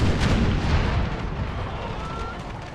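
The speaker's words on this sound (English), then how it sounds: "Howitzers, fire, fire, fire." Howitzer artillery in a Civil War battle video game, a dense continuous roar of booming cannon fire and rumbling blasts layered together, loud and sustained with no clear gaps.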